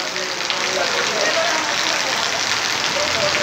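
Steady rain falls outdoors at an auto-rickshaw stand, a constant close broadband patter that holds evenly the whole time, with faint voices mixed underneath.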